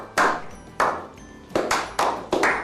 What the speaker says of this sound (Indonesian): tepuk tangan dulu buat Super Kid